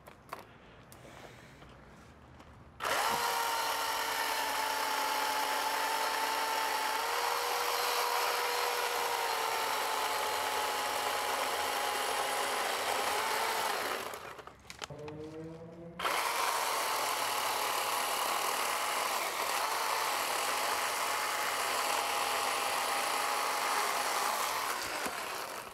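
An AEG 18V brushless 12-inch cordless chainsaw runs alone, a steady high electric whine with a short stop and restart partway through, fairly close and loud.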